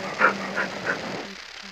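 A beagle gives three quick, sharp barks in an even rhythm, fairly close and loud, then falls quiet in an indoor setting.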